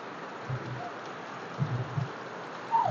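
Rain falls in a steady, soft hiss, faint and even throughout, broken by a few dull low thumps of drops landing nearby.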